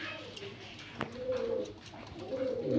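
Soft, throaty cooing from royal teddy pigeons rises and falls in a couple of rolling phrases nearby, over faint background noise and a single brief knock.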